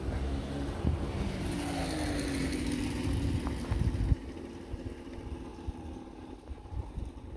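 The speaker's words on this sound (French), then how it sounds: "il y a une moto qui passe." A motorcycle passes on a street near someone with an electric bamboo skateboard, its engine swelling and droning for a few seconds and then fading away into quieter background rumble.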